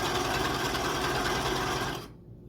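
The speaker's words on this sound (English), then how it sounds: "Yes, you can do curves on a serger." A serger sewing curves on a vintage quilt Christmas stocking, a loud continuous mechanical whir running steadily for about two seconds before stopping abruptly.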